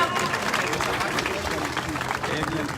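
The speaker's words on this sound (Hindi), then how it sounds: "जोरदार तालियां" Loud, steady applause at an honour ceremony for Tokyo 2021 Olympic medal winners in Rajgarh, Churu, with a crowd clapping continuously throughout, dense and close, with some voices mixed in.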